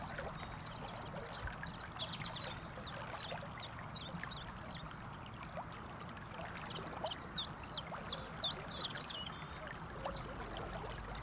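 The River Kennet, a trout river, flowing steadily as a soft continuous wash of water, with scattered bird calls above it and a few louder splashy bursts near the end.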